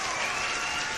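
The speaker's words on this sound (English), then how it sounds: "big round of applause to my buddy" Dense, steady applause and clapping from an audience at a live online fishing show, filling a short stretch at an even level without clear speech over it.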